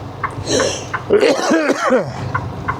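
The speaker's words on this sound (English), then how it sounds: "See, I start talking, I start coughing." A burst of harsh coughing from a sick truck driver, several rough hacks in quick succession, close up and fairly loud, with a throaty voiced edge.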